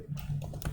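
A command is typed on a computer keyboard, a short quick patter of a few close, quiet keystrokes.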